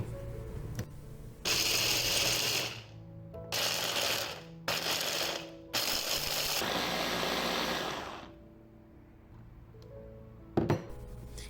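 Almonds being ground to powder in a kitchen mixer grinder, several loud whirring bursts of a few seconds each separated by brief pauses, close and alone.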